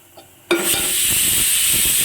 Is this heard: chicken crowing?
no